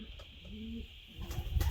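Racing pigeons cooing softly and close, a short low coo followed by brief rustling, wing flaps and a few faint bird calls, no talk.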